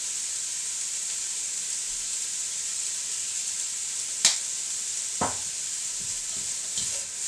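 Chicken and grated carrot noodles cooking in a pan with a steady, even hiss of frying, broken by a few sharp clinks and scrapes of stirring.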